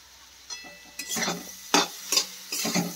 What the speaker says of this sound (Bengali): মশলাগুলো ভালো করে কষে নিচ্ছি যতক্ষণ না তেলটা ছাড়ে